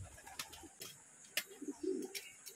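Racing pigeons returning home to their loft give a few soft, close coos, with scattered light clicks and fluttery taps between them.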